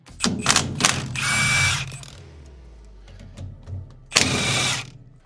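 A ratchet, likely powered, loosens the steering rack bolts on a NASCAR race car in two loud, fast buzzing bursts, with quieter mechanical clicks and clunks between them.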